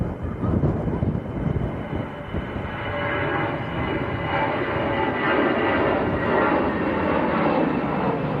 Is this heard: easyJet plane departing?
yes